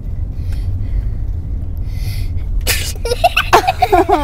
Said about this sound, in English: This is time for me to sneeze.